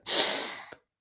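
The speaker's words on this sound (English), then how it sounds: "pause, sniff in again, exhale" A single sharp nasal sniff inward during a breathwork exercise, close and clear, lasting under a second and ending with a small catch before silence.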